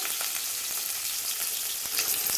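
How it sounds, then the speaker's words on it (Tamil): Chopped onion frying in hot oil in a pan for drumstick-leaf chutney, a dense continuous sizzle with faint crackles, close and steady with no talk. "வெங்காயத்தை நல்லா வணக்கி விட்டுக்கலாம்."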